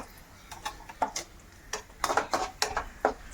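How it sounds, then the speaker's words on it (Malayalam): Nuts roasting in a pan for payasam are stirred with a utensil, making a run of light metallic scrapes and clinks in uneven bursts over a faint background hiss. "നട്ട്സ് ഇവിടെ മൂത്ത് വരുന്നുണ്ട്"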